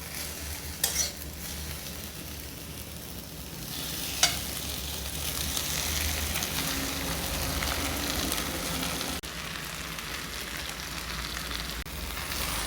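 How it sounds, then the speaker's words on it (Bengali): Leftover rice and raw egg fry together in a pan, giving a steady close sizzle with the scrape of stirring and a couple of sharp utensil taps. "আস্তে আস্তে আমি ভাতটা ডিমটা ভালোভাবে ভেজে নেব"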